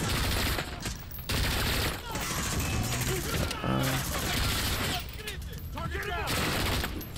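Sustained automatic gunfire in the Call of Duty: Modern Warfare campaign, dense rattling bursts of fusillade with brief pauses, loud and continuous across the scene, with battlefield shouting mixed in.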